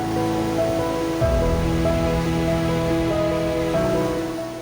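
Waterfalls of the Studený potok stream in the High Tatras, heard as a steady, loud, continuous rush of falling water throughout, with no talk.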